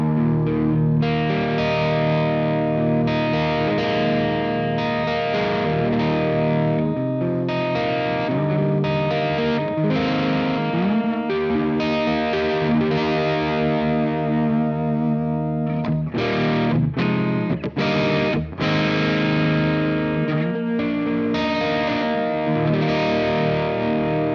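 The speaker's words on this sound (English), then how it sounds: "So that is the first channel of this amplifier, and you can do awesome ambient stuff with this channel though." Electric guitar played through the first, supposedly clean channel of an Amped Blackout amplifier, which sounds overdriven and ambient, with effects-laden chords ringing loud and continuous alone, then choppy stabs near the end.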